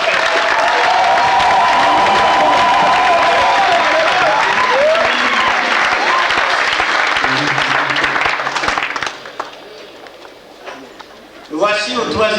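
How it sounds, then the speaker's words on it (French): A church congregation applauds and cheers loudly for about nine seconds, a dense, steady roar of clapping with raised voices. It then fades quickly, and a voice begins speaking near the end. "Je dis acclamez le Seigneur très fort."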